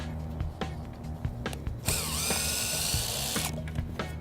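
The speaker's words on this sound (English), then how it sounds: "Okay, I gotta take this band clamp off first." A power tool removes a band clamp on a roof: a few light mechanical clicks and taps, then a loud, steady whirring whine for about one and a half seconds before it cuts off.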